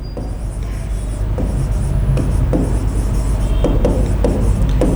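Chalk scrapes and taps against a board in short strokes spaced through the clip, close, over a constant low room rumble.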